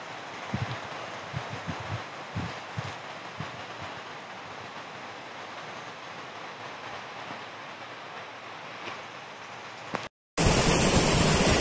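A noisy stream of water pouring down at Blue Lake in the Crimean Grand Canyon, a steady broadband rush with a few nearby footstep-like knocks early on, ending abruptly in a loud burst.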